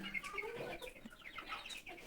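A flock of about 25 desi roosters clucks continuously at close range, overlapping soft calls and chatter with no talking, fairly quiet overall.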